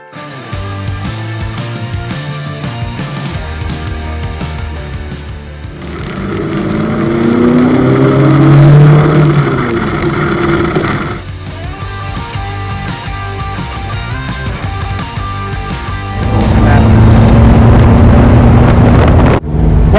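A Mk3 Ford Capri 2.1L S pulls away, engine rising and falling through gears over heavy wind buffeting and road rumble, loud and close from inside the car, with no speech.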